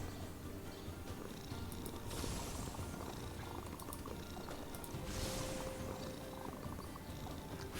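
A pet cat purrs softly and close by in a steady, rhythmic low rumble that stays faint throughout, with no talking.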